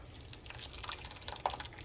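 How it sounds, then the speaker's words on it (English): Blended tamale sauce is poured through a sieve, giving a soft, close trickle broken by small drips and splashes as the liquid passes through the mesh. The sound is quiet and has no talking over it. "We're going to just pour this over the sieve."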